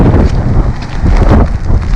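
Strong seaside wind buffets the microphone in loud, continuous gusts with low rumbling bursts, at a river-mouth spit on the coast during a storm.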